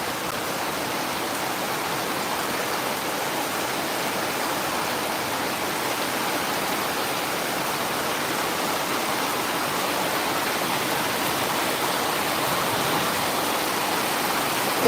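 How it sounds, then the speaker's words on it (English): Heavy seasonal rain pours down without a break, a dense, even hiss of water falling on plants and outdoor surfaces, loud and close throughout with no voices. "It's a heavy rains and it's having effects on the plants also."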